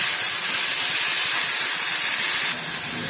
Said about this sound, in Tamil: உப்பு சேர்த்து இதை நல்லா வதக்கி விடலாம்.